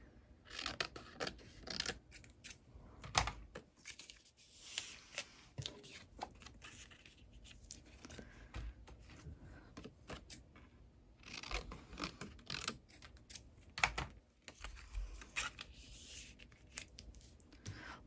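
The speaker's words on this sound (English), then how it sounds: "I'm just having to cut with my scissors for now." Scissors snip through paper binder filler pages in short, close, quiet bursts of cutting and rustling, with brief pauses between strokes and no voices.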